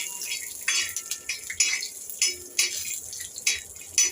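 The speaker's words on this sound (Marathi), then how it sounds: "आता हे बदाम आणि हे काजू थोडेसे आपल्याला तेलावरती परतून घ्यायचे आहे" Almonds and cashews are sautéed in ghee in a pan while being stirred, giving a series of sharp metallic scrapes and clinks at an irregular pace over a low sizzle, close by.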